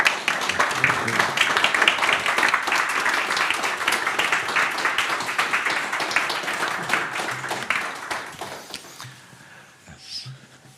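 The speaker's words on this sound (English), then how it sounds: "So please give them a big round of applause and welcome to the stage." Sustained crowd applause, dense and loud, with many hands clapping steadily before tapering off into a quieter room with a few faint sounds.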